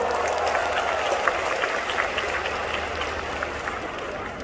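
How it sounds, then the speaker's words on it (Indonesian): An audience at a corporate CEO speech event in Jakarta claps steadily, a dense, sustained round of applause from a crowd that fades slightly toward the end. "Beri aplaus untuk kita semua."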